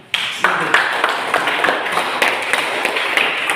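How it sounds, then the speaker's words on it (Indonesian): Students in a Catholic religious education class clap together, a moderate burst of sharp hand claps with distinct individual slaps standing out, carrying on steadily after a sudden start. "Ya, kita berikan tepuk tangan untuk itu."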